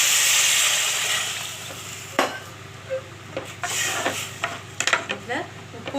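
Onions sautéing for upma, a soft hiss of frying in the pan broken by scraping spoon strokes and light clinks that come faster toward the end, with faint background voices.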